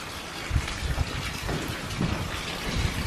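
Rainwater pours and splashes from house gutters in a steady, close rushing wash with low gurgling surges, continuous throughout with no talking.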